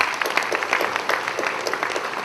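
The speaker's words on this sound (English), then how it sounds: "I think all of you deserve a round of applause." Warm applause from a roomful of people at a real estate awards dinner, brisk overlapping claps forming a steady, moderately loud patter throughout.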